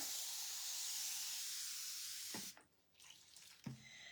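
Liquid sprayed from a spray bottle onto a sticky silkscreen board during cleaning: a loud continuous hissing spray that stops abruptly, followed by a couple of soft handling knocks.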